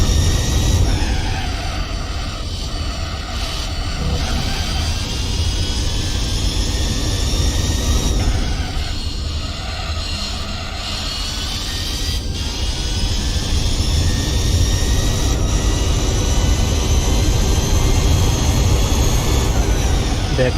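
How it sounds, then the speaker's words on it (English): A bone-stock, untuned Chevy Camaro races in Gran Turismo 4, its engine droning loudly and continuously with rising and falling pitch as it shifts through gears, no talking over it. "this is a bone stock Chevy Camaro without any kind of tuning whatsoever"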